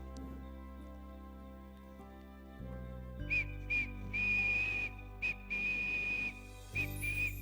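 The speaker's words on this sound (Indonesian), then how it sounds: "tidak baik bersiul malam-malam Pak" At night, a man whistles a thin, steady high tune in short repeated phrases over a constant humming background, close and clear, starting about halfway through.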